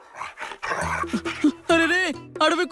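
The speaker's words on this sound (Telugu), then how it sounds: "అడవి కుక్కలు హనీ మీద అటాక్ చేస్తున్నాయి" Cartoon wild dogs attacking, a string of close, loud barks and growls in short bursts with gaps between them, fairly sharp and animated.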